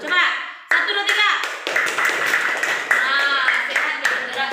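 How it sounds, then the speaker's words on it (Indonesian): People clap their hands in a lesson-style group exercise, sharp repeated claps mixed with lively voices talking and calling out, close and fairly loud. "Tepuk tangannya seperti ini."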